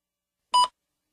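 A single short electronic beep that marks the start of a TOEFL speaking answer. The tone is clean and steady, lasts about a fifth of a second and sits alone in silence.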